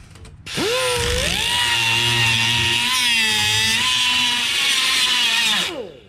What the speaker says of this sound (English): I'm gonna grind each of those rivets off, and then we'll pop that off.